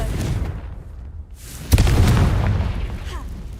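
A magical fire-blast spell detonates with a sudden loud boom partway through, followed by a sustained rumbling roar, in a modded Skyrim fantasy game; a low ambient bed precedes it.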